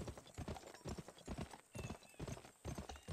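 Rhythmic hoof clip-clops of a trotting horse in the video game Gun, steady and moderately close, with faint background noise.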